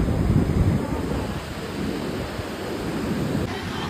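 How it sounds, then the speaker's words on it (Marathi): Ocean waves washing onto a beach at Murud Janjira during the monsoon, a continuous low rumbling surf mixed with wind buffeting the microphone, steady and fairly loud with no clear voices. "काय, त्या लाटा"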